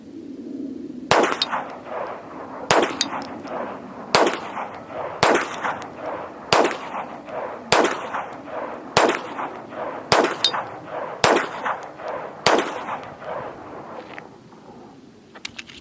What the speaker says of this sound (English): 10 rounds, Remington Golden Bullet, no malfunctions.